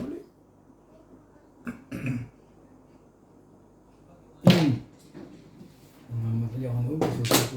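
A few separate coughs and throat clears come in short bursts between quiet stretches, close to the microphone, followed by a rougher, longer hacking spell.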